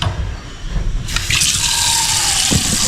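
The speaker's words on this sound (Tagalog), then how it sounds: "Tsaka konting tubig, syempre maasim yan." A little water poured into a cooking pot, a steady running, filling wash that starts abruptly partway through and continues to the end, fairly close.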